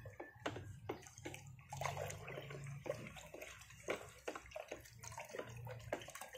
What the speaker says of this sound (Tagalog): hinahalo ko lang siyang mabuti. Kailangan po natin siyang haluin.